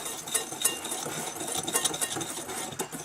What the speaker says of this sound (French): Mélangez toutes ces poudres.